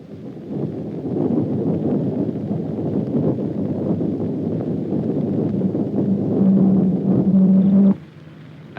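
Doppler radar return from a moving Jeep, a dense rushing, rumbling noise with a faint tonal hum emerging near the end before it cuts off abruptly, loud and steady throughout.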